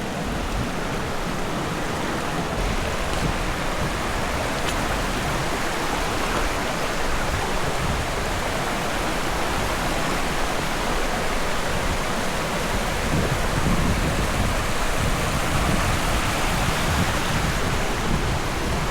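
A creek with a waterfall about 100 feet upstream rushes in a dense, steady roar of flowing water, loud and unbroken throughout, with no voices.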